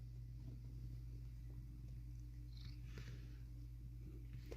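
A cat purrs softly and close by in a steady continuous low rumble with a rapid even vibration, unbroken throughout with no talking over it.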